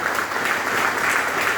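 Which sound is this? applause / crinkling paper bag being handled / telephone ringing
applause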